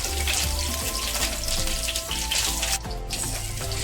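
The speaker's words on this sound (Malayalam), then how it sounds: "അപ്പോൾ നമ്മൾ എണ്ണ നന്നായിട്ട് തിളച്ചിട്ടുണ്ട്. അപ്പോൾ ഞാൻ മീൻ എടുത്തിട്ട് വെച്ചിട്ടുണ്ട്." Vatta fish sizzling in well-heated oil with curry leaves, a loud, dense close frying hiss throughout with a brief dip near the end and faint clinks underneath.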